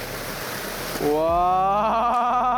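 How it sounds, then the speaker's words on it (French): A river flows steadily around a spot midstream near a small bridge in a forest, giving a constant close rushing wash, while a voice lets out a drawn-out exclamation partway through. "On est un peu au milieu d'une rivière"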